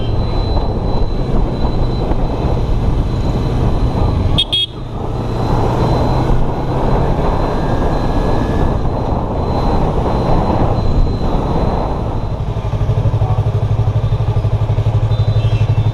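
A superbike rides through city streets at night in Besant Nagar, its engine droning steadily and loud with a constant rumble and rush of road and wind noise, one brief sharp clatter partway through, no speech.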